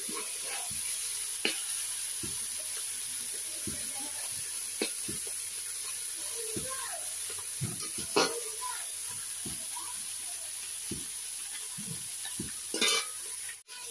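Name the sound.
fish frying in a pan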